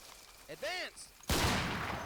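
Rifle and machine-gun fire in Combat Mission: Fortress Italy as troops shoot into woods from building windows. After a few brief tonal chirps, a loud, dense burst of fire erupts and keeps rolling to the end.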